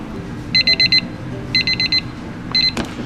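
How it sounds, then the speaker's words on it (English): A kitchen timer beeps in three quick bursts of rapid high-pitched pips, loud and close, with a faint clatter at the end, signalling rice finished cooking. "That alarm can mean only one thing, and that is our rice has fluffed."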